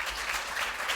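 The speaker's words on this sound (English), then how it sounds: "Well, let's clap for them." A brief burst of audience applause at a school quiz competition, many hands clapping together in a dense, steady patter.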